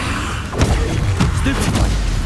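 Incendio fire spells are cast in the Hogwarts Legacy video game, giving a series of loud, booming whooshes and thuds. Each burst is heavy and close over a dense, rumbling game background.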